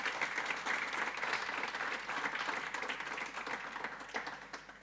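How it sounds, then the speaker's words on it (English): Steady, dense audience applause for the panel guests at a Limerick community meeting, a continuous wash of many hands clapping without talk. "you can give a big round of applause to everybody in it"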